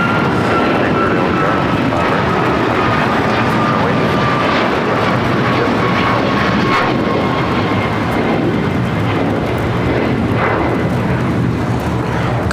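A Copa Airlines Boeing 737 MAX 9 taking off from LAX for Panama City, its engines a loud, sustained, steady roar heard continuously, with voices talking over it.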